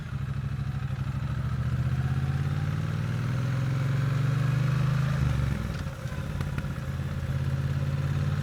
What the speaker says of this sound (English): Using that engine to turn the bike, to slow the bike down